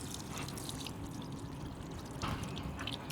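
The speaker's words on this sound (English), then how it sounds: "Nice low pressure water. Go ahead and rinse all of this out." Low-pressure water pouring and rinsing through a K&N air filter from a Harley-Davidson, a steady close splashing wash with a brief louder gush near the end and no talk.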